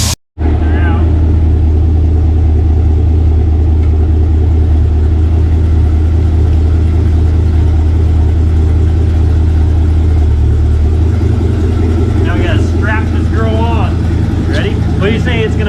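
A Cadillac CTS-V engine roars loud and close on a dyno, holding a heavy sustained drone before easing off, with people talking over the engine toward the end.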